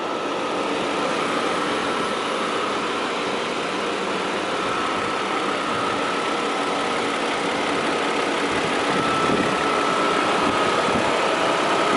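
A 2017 Audi Q7 Quattro SUV's V6 TFSI engine idles steadily throughout, a smooth, even hum heard close and at constant loudness with no talking.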